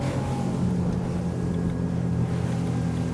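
A Ranieri International 275 SL stepped-hull motorboat planing at about 40 knots, engine roaring steadily, with a constant rush of water and wind close by. No voices.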